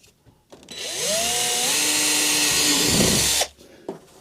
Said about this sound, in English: And I'm going to drill the hole.